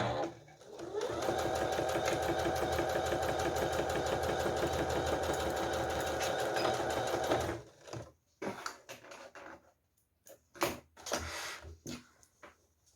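A sewing machine stitches a fanny pack in a fast, loud, steady run for several seconds, then stops, followed by scattered handling clicks and knocks.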